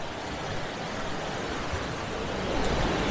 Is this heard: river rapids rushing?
yes